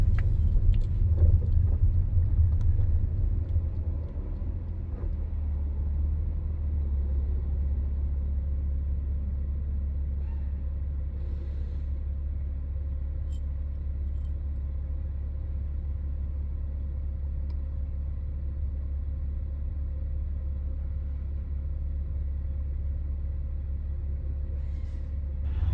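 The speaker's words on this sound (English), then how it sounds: "The traffic around me is making more noise than my car." Inside a car with a straight pipe exhaust in traffic, a deep constant rumble of engine and road fills the cabin, heavier at the start and then steady throughout, with no talk.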